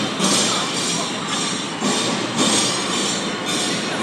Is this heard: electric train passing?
yes